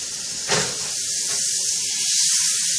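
Oil and butter hissing in a hot pan before braising short ribs: a sharp burst of sizzle flares up, then settles into a steady, close, fairly loud hiss.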